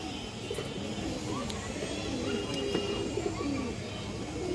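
A female pigeon coos in a series of soft, low, repeated calls against a steady background, with a faint voice now and then.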